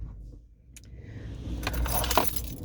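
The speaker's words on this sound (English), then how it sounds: "The keys are right here." A set of car keys for a 2018 Nissan Pathfinder jangles close by, beginning with faint metallic clinks and building to a brighter, busier rattle toward the end, with no talk.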